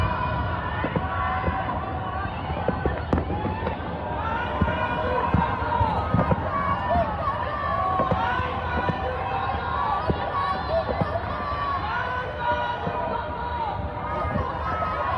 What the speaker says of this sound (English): I don't know what they're cheering, dude,